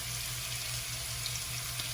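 Liquid poured into a pot while spaghetti cooks in a home kitchen, a steady watery hiss and splash lasting under two seconds, close and moderately loud, with no talking.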